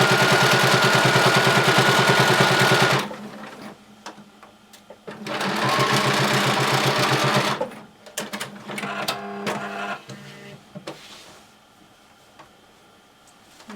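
Sewing machine running in two long steady bursts while stitching a skirt waistband seam, a loud continuous whir with a rapid needle rhythm, separated by quieter pauses with clicks and handling of the fabric.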